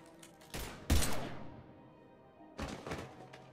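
Gunfire from a firefight in the Mass Effect 3 video game, heard as a few heavy, thudding shots with a loud burst near the one-second mark, a decaying tail, and another pair of blasts toward the end.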